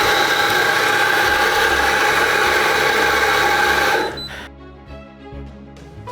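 A Fiorenzato coffee grinder grinds a dose of espresso beans with a loud, steady high-pitched whirring motor whine that runs for about four seconds and then stops, leaving faint clicks and handling sounds.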